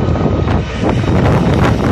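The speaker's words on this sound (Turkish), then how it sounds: "bir taraftan rüzgarı sesini duyuyorsunuz" Strong wind buffeting the microphone at a large wildfire in Akkum, Narlıkuyu near Silifke, a loud continuous roaring gust over two seconds.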